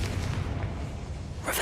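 A Confringo blasting spell goes off in Hogwarts Legacy, a loud, low, rumbling explosion that fills the short moment and ends in a sharp, bright burst of crackle.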